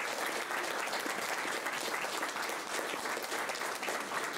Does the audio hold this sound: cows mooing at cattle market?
no